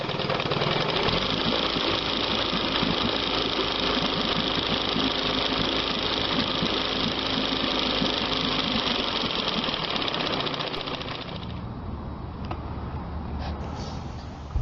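A 1975 Evinrude 25 HP outboard motor runs steadily in a test tank, a loud, continuous buzzing drone with rapid knocking pulses that eases to a lower idle near the end.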